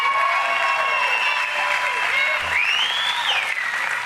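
Crowd cheering and applauding at a Trump rally, a dense, steady roar of clapping and voices filling the whole stretch at high volume, with shouts rising above it near the end.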